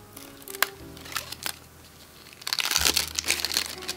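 Harry Potter playing cards being unwrapped from crinkly packaging, with close, soft rustling and scattered clicks that turn into a denser, louder burst of crinkling and crackling near the end.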